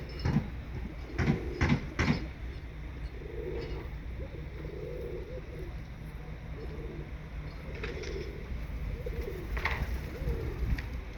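Low, soft cooing of pigeons, including a stray Sarıkır pigeon, repeats in gentle phrases over a steady background, with a few sharp knocks and rustles early on.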